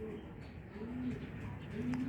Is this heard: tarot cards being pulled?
no